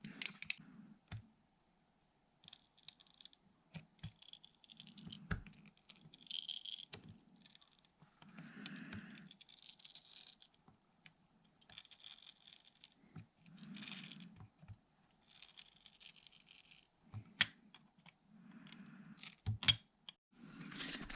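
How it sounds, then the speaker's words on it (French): A utility knife scrapes and picks a thin plastic film off the LCD screen of a Yamaha MT-07 motorcycle dash, giving faint, close, intermittent scratches and clicks in short bursts separated by quiet pauses. "le truc, ça va être au cutter d'aller enlever le petit film plastique qui est ici"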